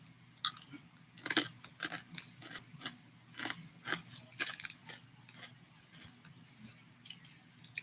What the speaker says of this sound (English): I can hear myself chewing and it feels like that is being amplified through this microphone